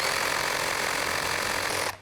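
A BULLE battery-powered reciprocating saw runs on a TV talk show set, giving a loud, steady, harsh buzz for about two seconds before it cuts off abruptly.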